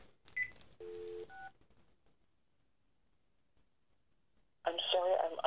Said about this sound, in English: Also dialing the same number,